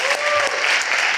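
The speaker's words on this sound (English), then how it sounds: "a round of applause." Seminar audience applause: a thick, steady wash of many hands clapping at once, loud and close, with a faint whistle or voice rising through it.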